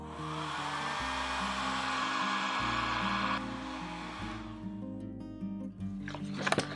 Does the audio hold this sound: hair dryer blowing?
yes